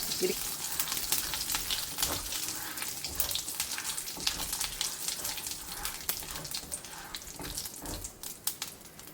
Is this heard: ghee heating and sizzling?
yes